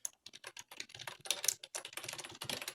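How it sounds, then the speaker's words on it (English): Quick, close keystrokes on a computer keyboard, a rapid uneven patter of clicks with no talking. "Let me type this in real quick."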